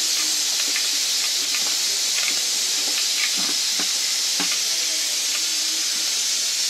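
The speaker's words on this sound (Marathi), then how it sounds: "फोडणी होते आता तयार" Mustard seeds and cumin sizzle in hot oil in a pot on a wood-fired stove, giving a continuous bright hiss with scattered small pops and crackles throughout.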